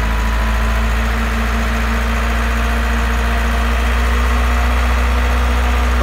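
A Gradall 542 all-terrain six-wheel diesel telescopic forklift idles with a loud, steady low rumble and even vibration, close and constant with no talk.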